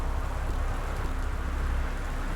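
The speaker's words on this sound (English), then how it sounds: "It seems to be pouring rain." Heavy pouring rain in the Gone Home video game, a steady dense wash of rainfall on a stormy late night, continuous and even throughout with no voices.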